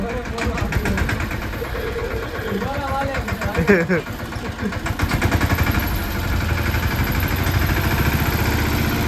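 A tractor engine idles with a steady low rumble running the whole time, while voices talk over it near the middle.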